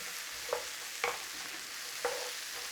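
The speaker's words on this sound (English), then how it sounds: "Little bit smoky paprika. This is Spanish. It'll go well with that Spanish chorizo sausage. Nice little stir." Smoked Spanish paprika is stirred into onions frying in a pot under a quiet, even sizzle, with three soft scraping strokes of a spoon against the pot.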